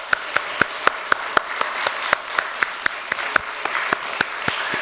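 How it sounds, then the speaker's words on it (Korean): A church congregation claps in slow, even unison during a flower presentation, sharp rhythmic claps repeating about four times a second over a soft room murmur. "네, 우리 꽃다발 전할 때 우리 박수 한번 하겠습니다."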